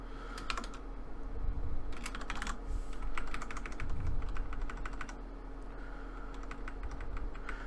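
Quiet bursts of keystrokes on a computer keyboard while a SQL query is entered, short clustered runs of typing with pauses between them over a steady low background hum.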